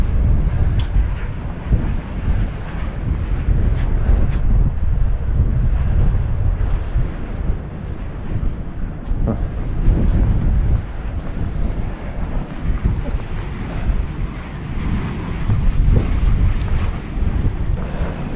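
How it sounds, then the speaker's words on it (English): Strong, steady wind roars and buffets close against the microphone on a frosty, cold mountainside near a wind farm, with gusts swelling and easing over the whole stretch and no voices. "You might not be able to hear it over the sound of the wind."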